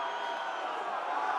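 A rugby stadium crowd roars steadily in support of Belgium at a European championship match against Romania, a dense continuous wall of cheering and whooping with no breaks.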